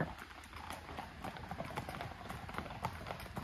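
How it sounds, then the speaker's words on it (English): Horses' hooves clip-clopping steadily on a pony trek through mountainous Wales, faint and fairly close, with a continuous outdoor background. "So the horses literally just follow along to come in."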